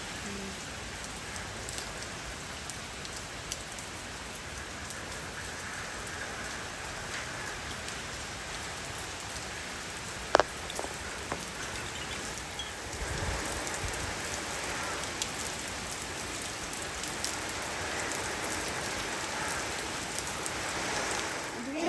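Steady rain pours on plants, flowers and ripening banana bunches, a dense continuous patter with a brief sharp drip or knock midway and the downpour swelling slightly louder toward the end.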